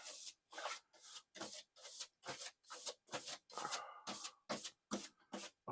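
A magic eraser scrubs the casing of a Commodore 1702 monitor in about a dozen quick, rhythmic back-and-forth rubbing strokes, close up and fairly quiet, with brief gaps between each scratchy pass.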